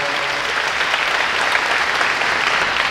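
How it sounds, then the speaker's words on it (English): Applause from the audience at an 8th grade graduation ceremony after the band plays, a sustained, even roar of many clapping hands filling the hall. "Let's give them and our graduates presentation a round of applause."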